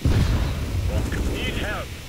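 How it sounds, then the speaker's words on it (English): An incendiary grenade in Counter-Strike: Global Offensive gives a loud, sustained low roar and rumble, with faint higher tones sweeping over it for about two seconds. "Incendiary."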